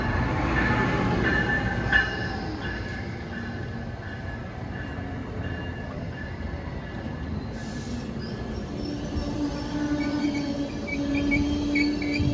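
An Amtrak passenger train pulls into a station platform near Boston, a loud steady rumble of wheels and rail noise with wheel squeal building toward the end, and no talking.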